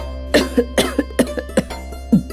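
A series of harsh, close coughs in quick bursts, about eight or nine in a row, loud against a steady low hum.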